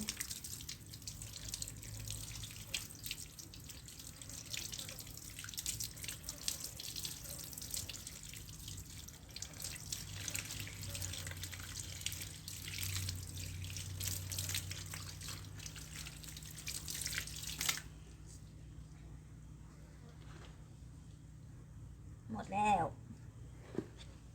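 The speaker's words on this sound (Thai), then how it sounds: "ผมก็จะเอาน้ำล้างเอา ผมไม่ได้ใช้สารเคมี" Water from a tap splashes and trickles steadily while aphids are washed off a coconut bonsai, then cuts off, leaving faint drips; someone talks over the running water.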